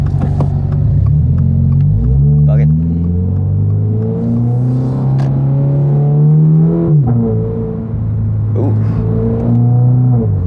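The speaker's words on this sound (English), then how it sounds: "this car has the AWE track exhaust" A Toyota GR86 fitted with an AWE track exhaust drives along, engine droning steadily and loudly, with pitch rising and falling through shifts and throttle changes, then dipping around a gear change before building again.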